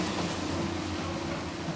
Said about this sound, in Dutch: Oh, een leuk treintje.